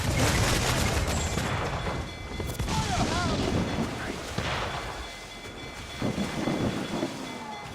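Ship cannons fire in a naval battle in Assassin's Creed IV: Black Flag, heavy booming volleys rolling over one another amid crashing impacts and wind, with a voice calling out between the blasts.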